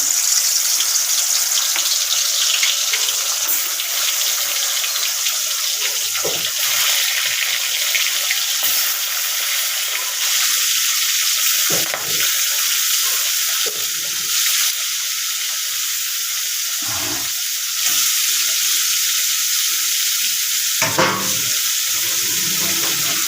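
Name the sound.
fish frying in hot oil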